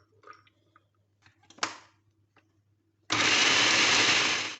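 An electric food chopper whirs loudly and steadily as it chops onion for Peshawari chapli kabab, starting abruptly after a few quiet clicks and handling noises and running continuously to the end.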